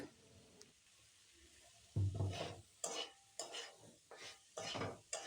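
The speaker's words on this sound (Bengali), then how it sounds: "দিয়ে ভালোভাবে নাড়িয়ে চাড়িয়ে নেব" Mixed winter vegetables with capsicum are stirred in a frying pan: a soft sizzle, then a series of scraping, clattering spoon strokes in uneven bursts, close and moderately quiet.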